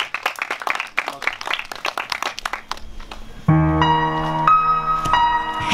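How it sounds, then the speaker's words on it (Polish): A festival concert crowd claps in a dense, steady patter for a few seconds, then keyboard-like sustained music tones come in and carry on over fading applause. "Wielkie brawa!"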